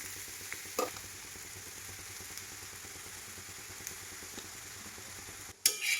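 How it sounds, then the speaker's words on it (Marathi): Mixed-grain dhapate flatbread roasts in oil on a pan with a faint, steady low sizzle, a few small clicks and a louder clatter near the end, with no talk. "दोन्ही साईडनी ना धपाट्या छान असं भाजून झालेले"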